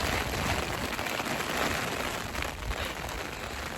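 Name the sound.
rain falling on an umbrella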